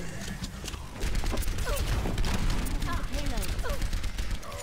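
Soldier 76 firing his rifle in Overwatch: a dense, rapid stream of shots with continuous game noise throughout, while someone talks over it.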